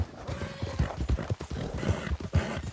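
Horse hooves clip-clopping steadily at a riding gait in a horse riding video game, a continuous rhythmic thudding heard at moderate level with no voices over it.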